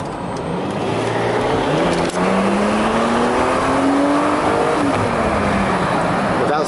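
A 1995 Mercedes-Benz W124 station wagon engine revs up through a rising pitch, climbing smoothly before easing off, loud and close with steady road and cabin noise underneath.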